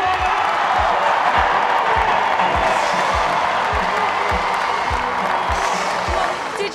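Gloucester rugby fans clap and cheer at the pitch after a women's Premier 15s final, a dense, loud wash of applause with steady rhythmic claps running throughout while a voice talks over it.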